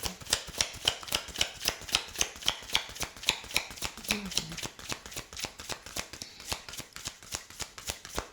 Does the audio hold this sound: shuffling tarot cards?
yes